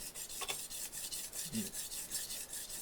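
A kitchen knife is sharpened on a brick, a steady rhythmic rasping of steel on rough masonry, close and continuous with no talk over it.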